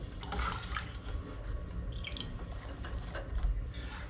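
Cooked beans lifted out of their cooking water with a slotted spoon, giving soft continuous trickling and dripping with a few small clinks, steady and close, no voices.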